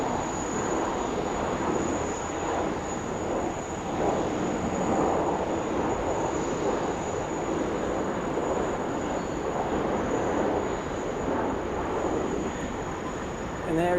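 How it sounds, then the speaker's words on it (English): A Qantas Boeing 737 arriving on runway 16 right at Sydney Airport gives a steady, moderately loud engine roar with a gently swelling broadband rumble, and a voice talks over it at times. "we're at our Qantas 737 arriving now, 16 right"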